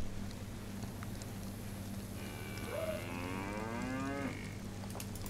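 A cow in the snowy Livonia map of the video game DayZ lets out one long, drawn-out moo over a steady background hum, moderately close and alone.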